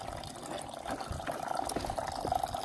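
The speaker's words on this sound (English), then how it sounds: "just pour some detergent in here with the fresh water" Clothes are washed by hand in a tub of fresh water with detergent in The Gambia, with soft sloshing, swishing and dripping of water close by at low volume and no talking.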